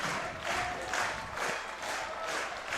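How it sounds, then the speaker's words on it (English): Baseball fans at Labatt Park clapping along in rhythm during a full count with two outs, a steady pulsing patter of crowd applause heard from a distance, moderately faint and continuous. "Clapping along as they try to cheer on Owen Boone to finish off this ball game"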